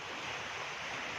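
Sea surf washes onto the shore at a beach resort in Tanza, Cavite, a steady broadband rush of breaking water with wind, moderately faint and with no voices.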